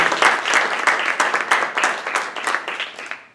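A small audience applauds at the close of a corporate lecture, with steady, fairly sparse clapping that stays close and moderately loud before tapering off.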